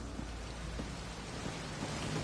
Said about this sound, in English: It's raining? How is it raining?